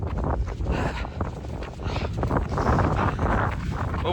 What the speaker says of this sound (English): Still straight into the wind.